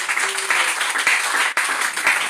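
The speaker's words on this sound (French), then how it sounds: "Est-ce qu'on peut applaudir pour la gloire de Dieu?" A church congregation applauds together in a dense, continuous patter of clapping that fills the room, with a brief dip partway through.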